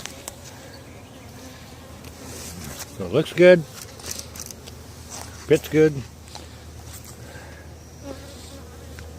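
Honey bees buzz faintly in the background around hive boxes while someone talks over them in short bursts.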